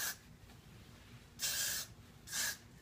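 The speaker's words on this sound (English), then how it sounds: "this is Paul Mitchell Extra Body Finishing Spray Volume and Shine" Paul Mitchell Extra Body Finishing Spray being sprayed onto curled hair: a short hiss at the start, then two longer close, loud aerosol bursts about a second apart against a quiet room.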